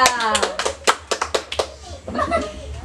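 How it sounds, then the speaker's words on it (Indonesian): A short burst of several sharp hand claps in a classroom, fairly close, followed by a voice speaking. "Beri tepuk tangan kepada kelompok 2"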